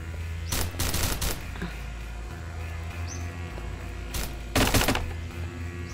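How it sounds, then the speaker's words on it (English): A shotgun fires in Starbound inside the Ceremonial Hunting Caverns: two pairs of sharp blasts, one early and one late, ring out over a steady hum of in-game ambience. "I guess I'm gonna have to shoot him with my shotgun"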